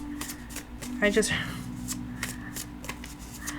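Tarot cards are shuffled and drawn with a quick papery riffle and soft flicks and taps throughout, while a voice talks quietly nearby.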